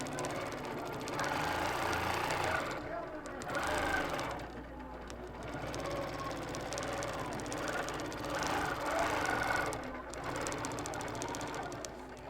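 A long arm quilting machine stitches continuously with a steady, fast mechanical whir that swells and dips slightly as it moves, and a voice talks faintly underneath.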